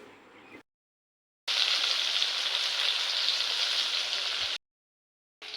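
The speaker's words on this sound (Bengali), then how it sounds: "চলো মাছটা এখন লবণ হলুদ মেখে ভাজা বসিয়ে দিই" Katla fish rubbed with salt and turmeric fries in hot oil, giving a loud, steady sizzle that stops and starts between short silences, with no talking.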